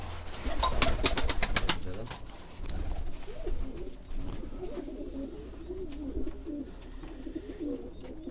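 Pigeons coo softly in the background of a coop with some rustling and a brief burst of wing flaps, fairly quiet and indoors-sounding.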